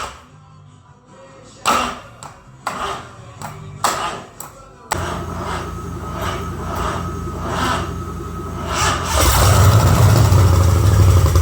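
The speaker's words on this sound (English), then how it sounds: "now we know the engine will fire" A Ford 302 V8 engine, on a weak battery, cranks over slowly in several separate bursts, then catches and runs loudly, roaring louder near the end.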